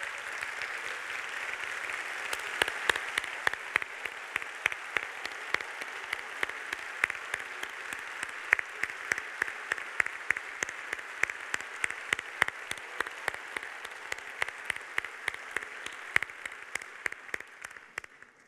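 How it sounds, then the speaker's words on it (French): A standing conference audience at a plenary closing session applauds the morning's speakers, the clapping falling into a steady rhythmic unison beat that carries on for a long stretch at even loudness. "On peut se lever tous et les applaudir"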